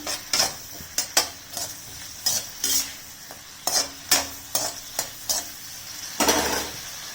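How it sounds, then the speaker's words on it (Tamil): Bitter gourd sautés in oil in a pan, a soft sizzle broken by rhythmic scraping strokes of a spatula, about a dozen close, crisp stirs. "அப்படியே நல்லா வதக்கி எடுத்துக்கோங்க"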